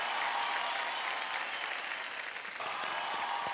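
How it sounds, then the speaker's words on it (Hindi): Studio audience at a televised singing competition applauding a singer after her performance, dense continuous clapping filling the room with no talk over it. "रीना जी के लिए तालियां।"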